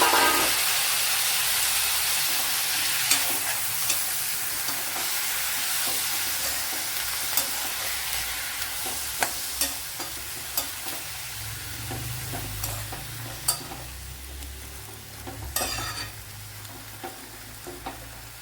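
Chopped cucumber and brinjal sizzle and fry steadily in a hot pan, with a broad continuous hiss and scattered clicks of stirring throughout, no voices present.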